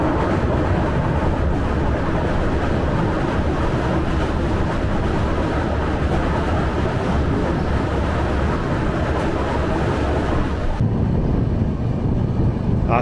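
Kamrup Express train crossing the Beki river in Assam, heard from on board as a steady, loud rumble with wind noise throughout, dropping slightly near the end, with no talk.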